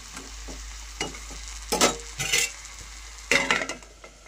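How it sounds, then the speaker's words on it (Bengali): Potatoes, eggplant and fenugreek leaves are stirred in a pan, with a steady low sizzle under several close bursts of spoon scraping and clatter, loudest toward the middle and end. "এবার মেথি শাকের সঙ্গে আমি আলু বেগুন ভালো করে মিশিয়ে নিচ্ছি"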